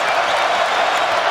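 A crowd cheers in a sold-out 20,000-seat college basketball arena during Alabama versus Tennessee: a loud, continuous roar of voices and applause, dense and unbroken for the whole moment.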